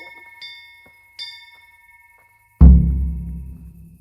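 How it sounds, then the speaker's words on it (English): A bell in the video game Kingdom Come: Deliverance, with two faint rings followed by a loud, heavy strike that booms close and decays slowly over a few seconds. "Bell. 3 times."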